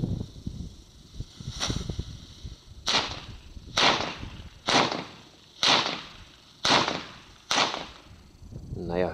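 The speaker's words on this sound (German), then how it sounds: "Naja, hüpfen tut er nicht, aber dafür knallt er noch." A string of sharp bangs from a Comet jumping jack firecracker that fails to jump, about seven pops in fairly steady succession, each a crisp crack with a short fizzing tail.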